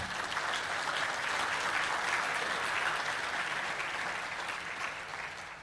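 Sustained applause from a large audience at a spiritual talk, dense and even, holding steady throughout with no voices on top.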